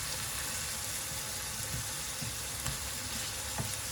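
Chicken liver and beef mince sizzling in olive oil in a pan, a steady soft crackle and hiss with occasional small pops, fairly quiet and uninterrupted.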